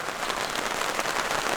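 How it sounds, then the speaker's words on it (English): A short midday rain shower at a mountain campsite, steady broadband patter falling on surfaces, close and constant throughout with no voices. "a short rain shower during the middle of the day"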